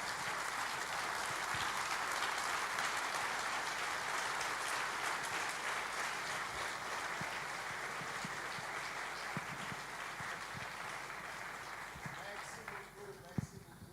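An audience applauds to welcome a doctor at a gathering, a long sustained wash of clapping at moderate distance with occasional louder claps standing out and fading slightly toward the end.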